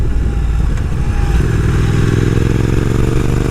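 A motorcycle engine runs loud and close while the rider leans through corners, a steady throbbing drone with a slight rise in pitch toward the end.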